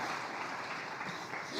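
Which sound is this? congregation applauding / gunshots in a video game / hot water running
congregation applauding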